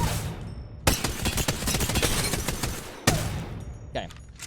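Rapid gunfire from a weapon in Apex Legends, a dense burst of shots lasting a couple of seconds, cut off, then a second shorter volley with a faint trailing effect, loud and close with no talking.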